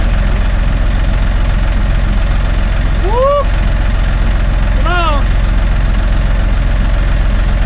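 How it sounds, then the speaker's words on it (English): A tractor engine idles and runs steadily on a farm while cattle are unloaded, a constant low rumble throughout with a voice calling out over it and two short rising whoops partway through. "I'm gonna move the tractor back around this way, that way I can let it go."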